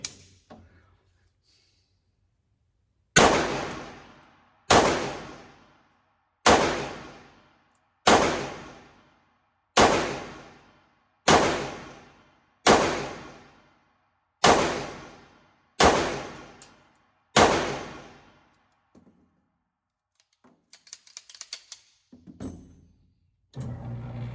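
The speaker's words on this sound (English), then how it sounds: "put 10 rounds down range with the Staccato XC" Ten evenly spaced, sharp pistol shots from a Staccato XC fired on a range at 21 feet, each loud crack ringing out with a decaying tail, followed by quieter clattering.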